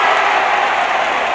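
A stadium crowd of about 25,000 at Lang Park cheers a Queensland goal kick in a 1971 Queensland versus New South Wales rugby league match, a dense, loud and steady roar of voices that fills the whole moment.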